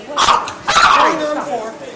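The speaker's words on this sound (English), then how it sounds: "What we have is friendly dogs that children of all ages can pet." Certified therapy dogs at a dog show give a couple of sharp barks close by, one quick bark and then a longer, louder one, with voices talking in the background.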